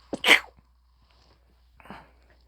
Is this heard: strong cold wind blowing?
no